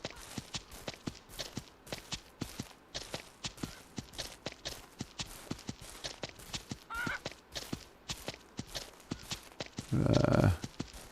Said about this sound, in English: One of my colts got loose. I hear him walking behind me back there.